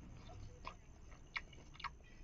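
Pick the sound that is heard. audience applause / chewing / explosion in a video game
chewing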